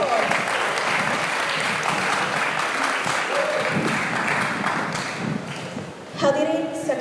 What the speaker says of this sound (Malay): Mari berikan tepukan yang gemuruh kepada Jabatan Penerangan Negeri Johor.